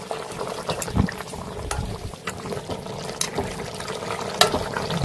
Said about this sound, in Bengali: বেশ ভালো করে ফুটতে শুরু করেছে।